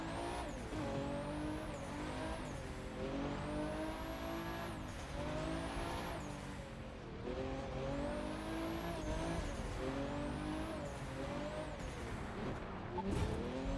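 Street car driven on open roads in the racing game The Crew 2, with its engine revving through repeated rising and falling gear shifts, steady and close, and a faint tire squeal near the end.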